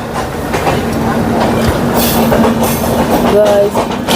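A train pulls into Jammu Tawi railway station, with a loud, steady rumble of rolling wheels and a faint high squeal near the end.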